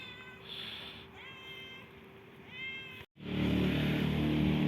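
A mother cat and her kittens meow outdoors in cold weather, with several drawn-out, close meows. After a brief cut, a loud burst of broadband noise follows.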